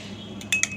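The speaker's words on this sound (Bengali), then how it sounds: "এই যে একটা চামচ দিয়ে নাড়াচাড়া করে নিলাম।" A spoon stirs tea in a cup, giving three or four quick, bright clinks against the side near the end of a short, otherwise quiet moment.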